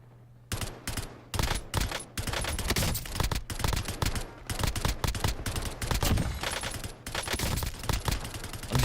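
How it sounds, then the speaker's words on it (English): Video game gunfire, rapid automatic shots in long dense bursts with brief gaps, loud and close throughout, with little else audible. "I'm just shooting into the darkness and it's hitting people."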